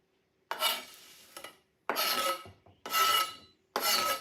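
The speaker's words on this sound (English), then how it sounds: "I'm going to put in my my spinach" Chopped spinach scraped and stirred into a pot of gnocchi soup, four separate rough rasping scrapes of a utensil against the pot, close and fairly loud, separated by short silences.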